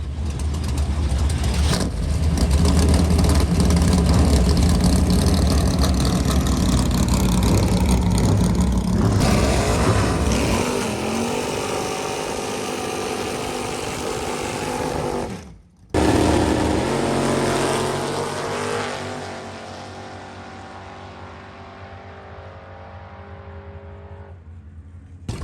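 A Chevrolet Vega built as a dragster, its engine loud and close, revving hard at first, then settling into a rough, lumpy idle with a brief cut in sound partway through.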